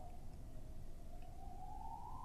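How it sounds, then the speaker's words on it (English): An emergency vehicle siren wails outside, a faint, steady tone slowly rising in pitch over a low rumbling background. "Now there's a siren."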